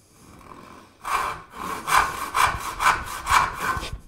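A hand saw cuts a wooden dovetail joint up to the marked line. About six even push strokes rasp through the wood in a steady rhythm after a quiet opening second. The sawing is close and clear, with no talking.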